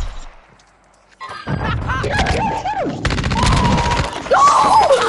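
Shotgun blasts in the video game Warzone fire in a rapid cluster of loud, sharp bursts amid chaotic gunfire, with players shouting over the action.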